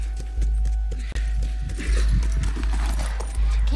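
A horse trotting in The Last Of Us video game: steady clip-clop hoofbeats over a loud, constant low rumble, with a brief cut partway through.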